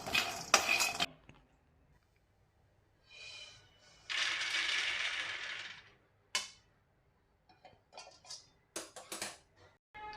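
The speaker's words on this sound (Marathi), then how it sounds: "आता आपण शेंगदाणे काढून घ्यायचे" Roasted peanuts are scraped and tipped out of a pan in short bursts of scraping and clattering, separated by quiet pauses.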